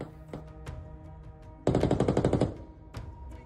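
A few scattered gunshots crack, then a rapid burst of automatic gunfire rattles loudly for under a second, followed by a couple more distant shots.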